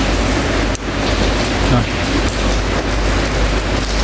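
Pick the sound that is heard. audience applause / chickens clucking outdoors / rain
rain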